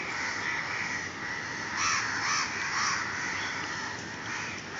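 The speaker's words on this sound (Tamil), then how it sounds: "இப்போ தான் காக்காயெல்லாம் வந்து கத்துது" A group of crows caws repeatedly from a tree, several overlapping harsh calls rising in bursts over steady outdoor background noise, fairly close and loud, with no talking.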